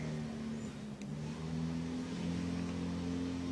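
Demolition derby cars at the Carroll County Fair, running hot, rev their engines in a continuous, rising and falling mid-pitched growl with no talk.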